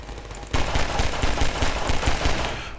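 Rapid automatic turret gunfire in the video game Deep Down, a dense burst of evenly spaced loud shots running continuously for a couple of seconds.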